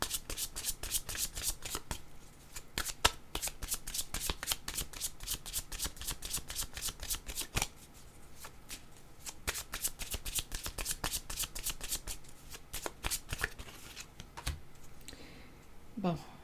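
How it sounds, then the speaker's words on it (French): Yellow cards being handled and riffled in a rapid run of dense papery flutters, close and crisp, with a brief lull midway and a voice speaking faintly underneath. "Je vais prendre des cartes jaunes."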